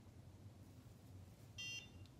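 One short electronic beep from a NuFace Trinity facial device fitted with the ELE attachment, faint and brief over a low background hum, sounding once near the end.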